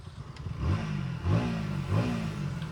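A 2025 KTM Duke 160 motorcycle engine revs in three short rising pulls, each climbing in pitch and then easing back to a steady mid-pitched hum, close and moderately loud, with no talking.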